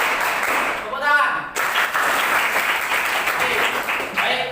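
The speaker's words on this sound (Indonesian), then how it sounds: "Tepuk tangan." A classroom of students clapping their hands together in unison on cue, brisk rhythmic claps close by with a teacher's voice and some chatter around them.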